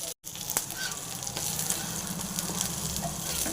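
Brinjal slices frying in oil, a steady close sizzle with faint crackles and bubbling, running on alone without talk after a very brief cut near the start.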